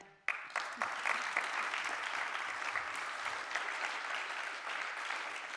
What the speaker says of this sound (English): I guess they deserve some applause for that.